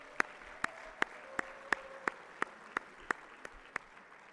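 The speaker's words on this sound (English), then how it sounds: "let's just give a round of applause for having 2 Rwandans in this category" Faint, sparse handclaps at an East African business leaders' awards ceremony, about a dozen sharp claps in a steady, evenly spaced rhythm, with a low hum underneath.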